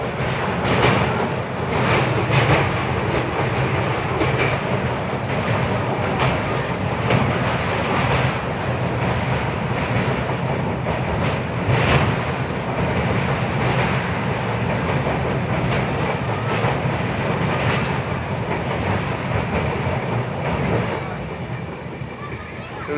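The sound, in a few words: Secunderabad–Nizamuddin Duronto Express train running at speed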